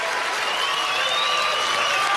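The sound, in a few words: audience applauding Jennifer Harmon's third-place exit at poker tournament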